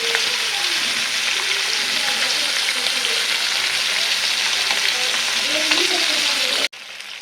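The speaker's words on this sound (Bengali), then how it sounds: "মাছটি সুন্দর করে ভাজা হোক" Tilapia fish frying in oil in a pan, a steady close sizzle that runs almost the whole time, with a faint voice underneath, then stops abruptly near the end.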